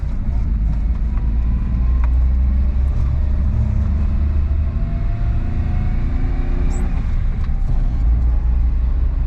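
A Suzuki Jimny pulls away in second gear, its engine a steady, continuous low rumble close by as it gains speed, with no one talking.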